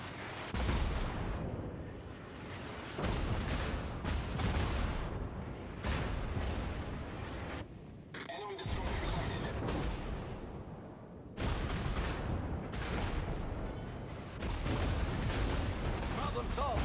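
Heavy naval guns roar in World of Warships, loud booming broadside blasts rolling out in repeated bursts roughly every couple of seconds, with voices talking over the barrage.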